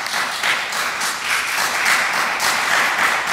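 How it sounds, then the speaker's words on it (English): Close, lively audience applause at a string quartet competition finals, dense clapping that surges and holds for a few seconds. "Let's give a round of applause to our supporters."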